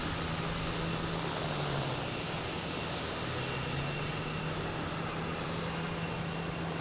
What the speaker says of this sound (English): There's Lufthansa coming in here. A340.